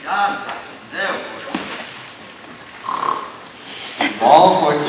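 A voice imitates a wolf snoring during a children's Little Red Riding Hood play, with rough, drawn-out snorts rising and falling under a noisy room and other voices.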